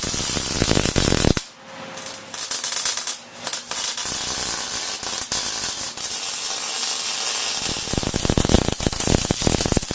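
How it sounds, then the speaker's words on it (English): Welding pieces onto a metal storage rack produces a loud, steady crackling hiss across a full ten seconds, briefly broken by short pauses near the start, with no talking. "So we're going to weld these on right here. Looks like we're ready to weld."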